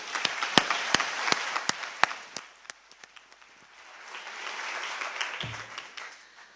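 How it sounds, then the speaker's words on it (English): Crowd applause at a hydrogen policy conference, with a burst of sharp individual claps at first, thinning out and then swelling into a steadier, softer wash of clapping. "please, a big round of applause for him."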